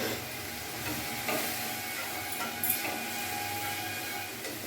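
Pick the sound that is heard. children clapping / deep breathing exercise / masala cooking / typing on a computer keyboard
masala cooking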